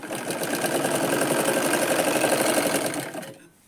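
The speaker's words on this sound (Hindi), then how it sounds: "तो चलिए यहाँ से हम इसको सिलेंगे।" A sewing machine stitches a katori blouse in one steady, continuous mechanical whir with a fast rhythmic chatter, close and fairly loud, then stops abruptly near the end.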